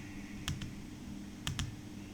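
A few computer keyboard keystrokes, two brief pairs of soft clicks over a quiet hum of background noise.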